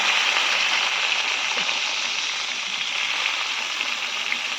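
Eggplant pieces fry in hot oil in a pan, giving a loud, steady, crackling sizzle with bright hissing texture, close up and continuous, without any talking over it.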